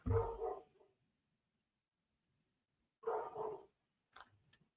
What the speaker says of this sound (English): he don't never bark like I hear him barking now